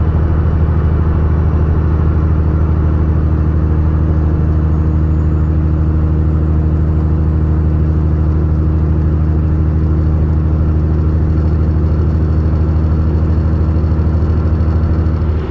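A truck engine idles loud and close with an even, unbroken mechanical drone and a low throb that stays level throughout, with no talking.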